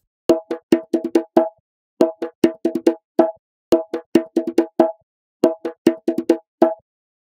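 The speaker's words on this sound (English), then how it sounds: "The first one is a djembe loop from a Fractal Sound Pack" A dry djembe loop from a sample pack plays as repeating phrases of crisp hand strikes, quick clustered hits separated by short gaps, loud and isolated.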